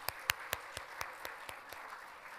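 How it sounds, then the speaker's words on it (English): Several people clap in rhythmic unison, about ten evenly spaced claps that gradually fade, sounding like a small audience in a room. "Shall we give it a big round of applause?"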